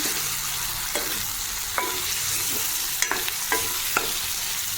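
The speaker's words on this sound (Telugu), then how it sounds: "పసుపు వేసేసి కలిపేసుకున్నాను" A spoon scrapes and stirs turmeric into dry fish curry frying in a pan, several distinct clinks over a constant close sizzle.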